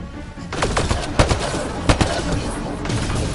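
Rapid gunfire from a firefight in the video game Mass Effect Andromeda, with repeated sharp shots and bursts over a dense, noisy battle background, a few louder cracks standing out near the middle, and a voice speaking faintly beneath.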